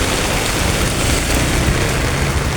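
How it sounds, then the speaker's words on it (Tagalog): Heavy rain pouring down during a flood, a dense, loud, unbroken hiss close by with no voices. "Grabe ka ulan."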